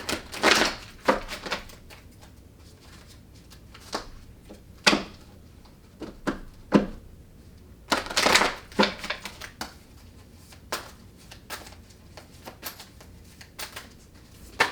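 Angels and Ancestors tarot cards being shuffled and drawn by hand, with irregular bursts of crisp riffling and slapping card sounds separated by quieter pauses, close and alone without talk.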